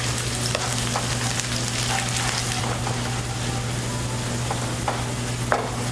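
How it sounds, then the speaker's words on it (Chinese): Shallots fry in a wok over medium heat until golden. The oil gives a steady, dense sizzle with a few brief stirring scrapes, and no voices are heard. "转中火， 把红葱头煸至金黄，"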